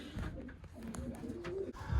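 Racing pigeons coo in low, soft, repeated bursts at a loft, a steady close murmur of birds with faint background rustle and no speech.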